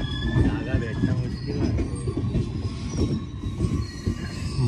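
A passenger train rolls along with a heavy rumble, rhythmic wheel clatter and thin metallic squeals from the wheels on the rails. The sound is loud and close, and voices speak faintly beneath it.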